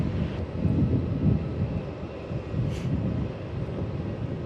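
A Rex airliner arriving from Adelaide rumbles in on landing, a steady low engine roar with wind buffeting, fairly loud and continuous without talk.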